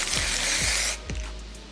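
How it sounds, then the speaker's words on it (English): Glitter spray from an aerosol can hisses in one steady burst lasting about a second, close by, with light clicking from the nozzle and no talk. "I have this glitter spray."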